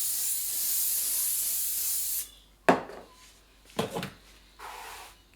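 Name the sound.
spray bottle spraying hair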